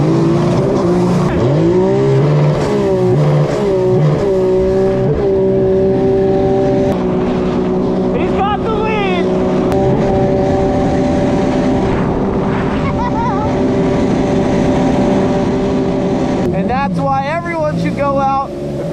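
Stock stand-up Super Jet jet skis drag race side by side on the water, their engines roaring loudly and continuously, with the pitch rising and shifting as they accelerate and talk heard over the noise.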